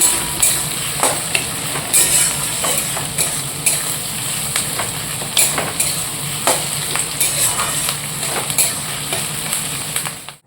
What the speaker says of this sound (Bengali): এদিকে পেঁয়াজটা ভাজতে দিয়েছি আর টমেটো একটু দিয়ে দিলাম